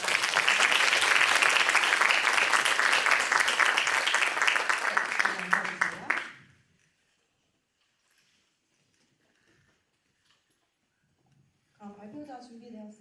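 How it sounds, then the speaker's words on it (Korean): A room full of people at a Korean graduation and project presentation ceremony claps loudly and steadily for a team of trainees for about six seconds. The applause then fades to near silence before a voice begins speaking. "8팀 교육생들에게 모두 수고 많았다고 큰 박수"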